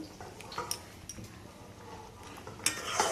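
Stuffed pointed gourds stirred in a pan, giving soft scraping and light metallic clinks of a spoon at an irregular pace over a quiet sizzling background.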